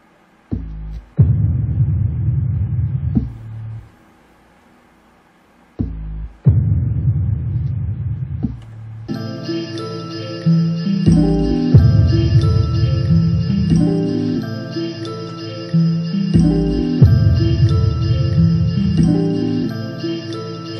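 A hip-hop beat plays with deep booming kick drums in slow repeating loops and a rumbling low end, then a brighter layered synth part joins midway, loud and steady with no talking.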